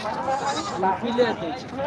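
Goats, a Hundi-breed goat and a local village goat, bleat in short wavering calls, fairly close, with people talking over them.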